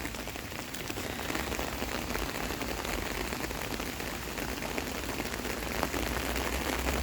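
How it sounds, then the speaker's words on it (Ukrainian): Steady rain, falling faster, pattering densely on an umbrella in Kyiv, a continuous close hiss of drops with no pauses throughout. "Чуєте, як дощик починає швидше і швидше"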